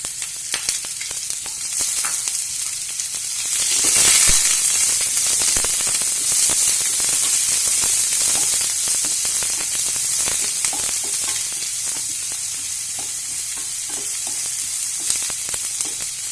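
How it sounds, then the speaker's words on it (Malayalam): Chopped onion, green chili, ginger and garlic fry in a hot pan, giving a loud, continuous close sizzle with scattered crackles and occasional stirring clatter throughout. "അതിലേക്ക് അരിഞ്ഞു വെച്ചിരിക്കുന്ന സവോള, പച്ചമുളക്, ഇഞ്ചി, വെളുത്തുള്ളി ഇതെല്ലാം കൂടെ ഇട്ട് കൊടുക്കണം."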